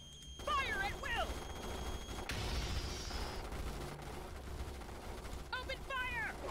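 Sustained roar of massed gunfire from troopers battling bugs in the sci-fi strategy game Starship Troopers: Terran Command, a steady wash of shooting under shouted voices and creaking effects.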